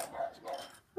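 A dog gives short whimpering yelps and soft barks nearby, two brief rising cries about half a second apart, indoors in a quiet room.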